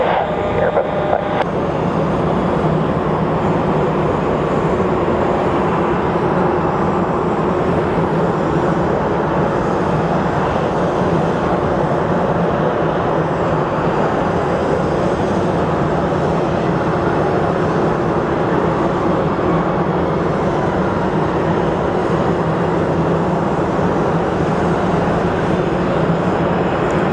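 An American Airlines Airbus jet taking off at Phoenix Sky Harbor, heard as a steady, broad jet-engine roar that holds strong throughout, with radio voices talking over it.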